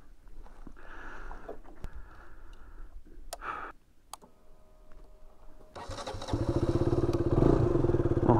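A motorcycle on Argentina's Ruta 40 in Catamarca, just after sliding out on a curve, is restarted. Quiet clicks and handling noises come first, then the engine fires near the end and runs loud and close.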